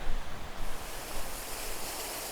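Waterfall in the hills near Osaka, a broad continuous roar of falling water, steady and fairly close, with no voices over it.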